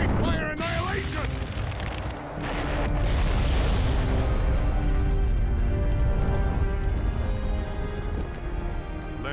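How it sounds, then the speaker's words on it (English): A huge fire-style Great Fire Annihilation jutsu blast in Naruto Ultimate Ninja Storm 3 roars out as a heavy, sustained booming rumble with sharp bursts, loud and close, while voices speak over it. "Now's the time. Fire style, Great Fire Annihilation!"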